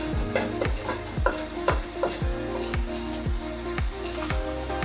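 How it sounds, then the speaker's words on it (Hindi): Garlic and cumin seeds fry in a couple of spoonfuls of ghee for jeera rice, a steady close sizzle broken by regular scraping strokes of a spoon stirring the pan, roughly two per second, with no talking. "ये जब तक लहसुन ब्राउन नहीं होता उस वक्त तक हम इसको हिलाते रहेंगे।"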